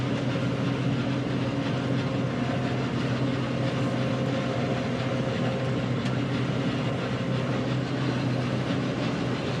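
A combine harvester works through a buckwheat field, a dense, continuous mechanical roar and rumble of engine and threshing machinery, steady and close throughout with no speech.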